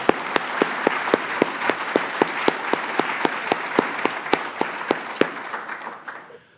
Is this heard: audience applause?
yes